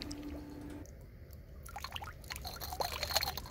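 Excess water pours and trickles out of a 125 ml sediment jar during field sampling, a faint, short splashing dribble that grows slightly louder toward the end, with no talk.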